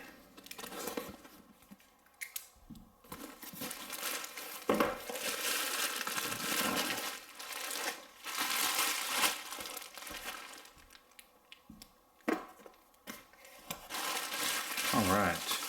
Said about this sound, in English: Alright. Well, pretty well wrapped. Double bubble wrap.